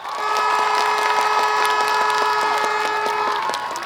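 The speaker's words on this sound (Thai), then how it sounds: "ถ้ามักขอเสียงปรบมือดังๆลยครับ" A rally crowd in Kumphawapi, Udon Thani, claps and cheers in a dense, steady wash of applause. A sustained tonal hum runs beneath it from start to finish.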